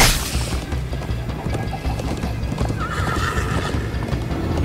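Horse galloping in the video game Minecraft Story Mode, a steady rhythmic clip-clop of hooves with whinnies, loud and continuous alongside game sound effects and a thudding backdrop.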